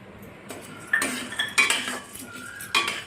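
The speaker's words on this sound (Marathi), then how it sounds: "आता आपण पंढरपुरी डाळ भाजत आहोत" Pandharpuri dal being dry-roasted in a pan for healthy pohe chiwda, heard as a few sharp clinks and scrapes of a utensil against the metal pan over a short, quiet stretch.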